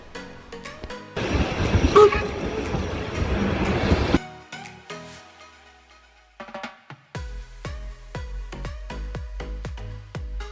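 A Dutch steam train runs on its rails, with a loud burst of rumbling and hissing early on, then a quieter stretch of rhythmic clanks and clicks from the cars passing over the track.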